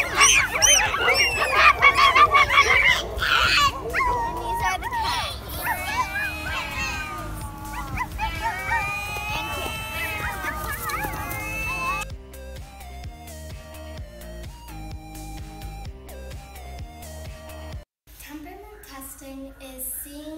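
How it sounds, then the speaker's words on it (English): Dogs at a humane society shelter bark and yelp in a dense, overlapping chorus, loud and continuous at first, then thinning into scattered barks and whines later on. "These are the dogs."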